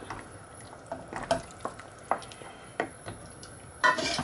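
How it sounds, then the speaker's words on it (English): Pasta with shrimp and chicken being stirred in a pan: soft, irregular scraping and clinking of a utensil against the pan, quiet and close, with a few sharper taps. "So just mix it in like so"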